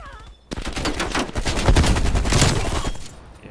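MP5 submachine gun blasting in a video game shootout, a sustained rapid burst of loud, dense automatic fire lasting a few seconds after a brief quieter start, close and harsh.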